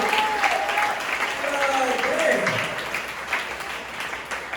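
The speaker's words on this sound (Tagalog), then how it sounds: "Lahat ng pinagpala, pumalakpak sa ating Panginoon." A church congregation in San Jose del Monte, Bulacan claps loudly and steadily during a sermon while a preacher's voice carries over the applause.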